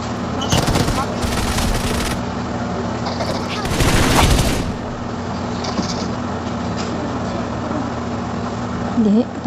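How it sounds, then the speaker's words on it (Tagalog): Gunfire in the PUBG Mobile battle royale game, several loud bursts of rapid automatic shots over a steady engine-like hum, with players talking throughout. "Bakit may pumuputok?"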